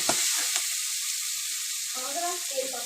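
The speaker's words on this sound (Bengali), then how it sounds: "পেঁয়াজটাকে আমি ভালো করে লাল লাল করে ভেজে নেব" Onions frying in hot oil for a crab curry, giving a steady hissing sizzle throughout with a few soft stirring sounds underneath and brief spatters near the start and end.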